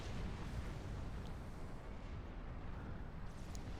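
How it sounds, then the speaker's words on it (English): Continuous, dense rumble of artillery fire and explosions from a Supreme Commander 2 match, a steady booming wash filling the whole stretch with no quiet gaps. "Unknown Desire going at them with the fortified artillery, which is a great idea, actually"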